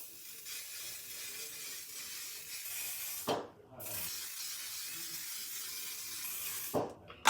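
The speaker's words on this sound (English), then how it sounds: "And then we're gonna go in with a hairspray." Hairspray hisses from a can onto hair in two short bursts, a close airy spray standing out over a constant background hiss.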